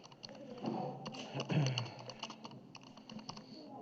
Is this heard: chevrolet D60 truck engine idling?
no